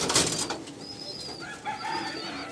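Pigeons in a loft on a rainy day cooing softly, a few low coos close by over a background of rustling and light chirps, with no talk.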